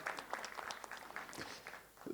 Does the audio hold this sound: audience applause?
yes